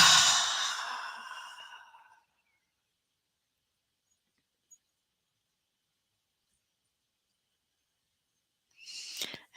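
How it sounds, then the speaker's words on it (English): A big, breathy exhale pushed out from the lungs during a guided meditation, a long airy whoosh that fades over about two seconds, followed by quiet and a faint breath near the end. "So do a great big exhale."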